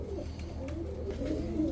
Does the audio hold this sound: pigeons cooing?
yes